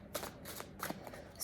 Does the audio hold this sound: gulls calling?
no